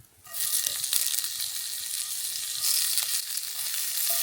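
Seasoned broccoli sizzles loudly on a hot plate over a campfire in the snow, a continuous bright crackling hiss with small pops and no talking.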